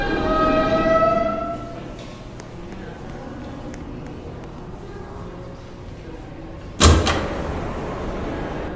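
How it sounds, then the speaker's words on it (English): E train pulling into the 42nd Street station in a Roblox subway game: a steady rail rumble opens with sustained tonal horn-like notes, then a sharp loud burst near the end like a door or coupling clank. "the next train is now arriving on the local track"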